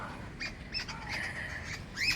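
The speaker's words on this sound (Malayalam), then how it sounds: "കിളികൾ കുറെ കിളികളിരുന്ന് കരയുന്ന കേട്ടോ ഞങ്ങൾ പോണ വഴിക്ക്." Several birds squawk and chirp around a house in the forest, a few short high calls scattered over the clip, rising to a louder squawk near the end against a steady outdoor hiss.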